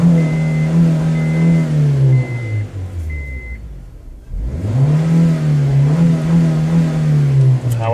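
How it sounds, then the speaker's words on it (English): A blown Honda CR-V engine revs loudly and steadily, dropping away briefly to near idle before climbing back up to a sustained, droning roar with a faint intermittent whine above it. "This is what happens when you blow your engine"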